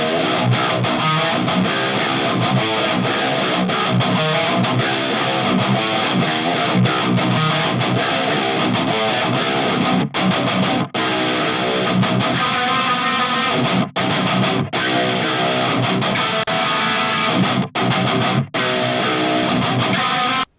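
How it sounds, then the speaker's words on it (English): Two heavily distorted metal djent electric guitar tracks, toned with free Logic Pro X plugins, play a dense chugging riff with brief choked stops, loud and constant without speech. "We're going to listen to the two guitar tracks soloed."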